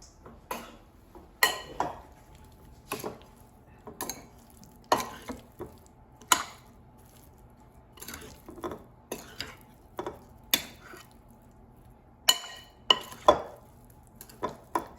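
Red potatoes being stirred with seasoning and butter in an Instant Pot, a string of separate utensil clacks and scrapes against the pot at an uneven rhythm, close and clear, with no talking.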